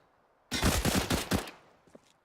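Rapid burst of CZ75 pistol fire in a Counter-Strike match, about five sharp close shots rattling off over a second, then fading to quiet with a faint trailing sound.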